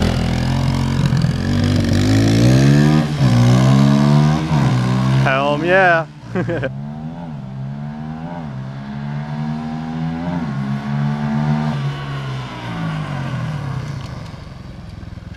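A Honda CRF150F big-bore dirt bike engine revs hard and close, its pitch climbing and falling in repeated throttle blips with a brief cut midway, while people talk briefly nearby.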